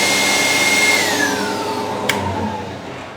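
A Charnwood 10x8 planer thicknesser runs with dust extraction attached, a loud steady whine and roar with a falling tone that slowly winds down, heard close with no talk.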